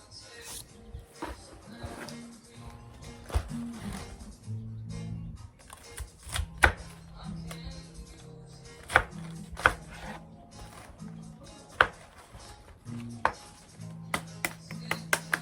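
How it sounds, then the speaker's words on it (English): Knife chopping cabbage with the root and stem removed, for boiling: a long run of irregular sharp chops on a board, some louder and close, with low background hum throughout and no talk. "This is how I cut the cabbage to boil."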